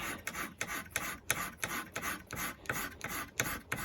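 Mill file rasping by hand along a knife blade edge, steady back-and-forth strokes about twice per second, close and dry with no voices.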